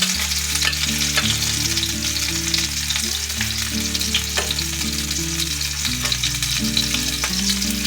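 Fish sizzles in hot oil in a pan with a loud, continuous crackling hiss and occasional sharper pops, close up, while background music plays underneath throughout.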